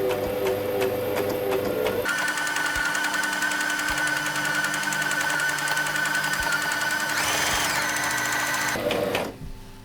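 A Brother LS14 domestic sewing machine stitches in a fast, steady whirring run close up, changing pitch partway through and slowing to a stop at the end.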